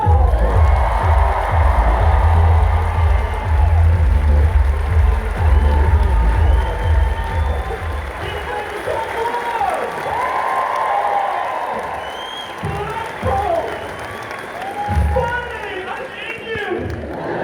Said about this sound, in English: Cheer another for the big man himself, Jack Whitehall!